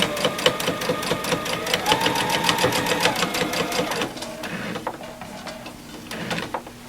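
Sewing machine stitching a quilt with a fast, steady mechanical chatter of needle strokes for about four seconds, then slowing to a few scattered clicks and handling noises up close.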